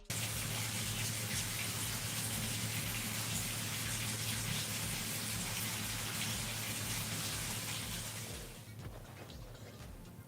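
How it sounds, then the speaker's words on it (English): Running water from a faucet, a steady dense broadband hiss of flow that continues strongly for about eight seconds, then drops off near the end as the tap is shut, with no talking over it. "He's just running the faucet."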